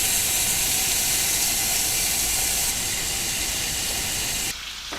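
Bacon sizzling in a pan as the start of a sauerkraut dish, a steady loud crackling hiss with dense spitting that holds level and then drops suddenly near the end.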